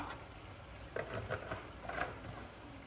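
Oil hisses and sizzles faintly in a pan of hot mustard oil on a medium stove, a steady soft crackle with a few brief stirring clatters.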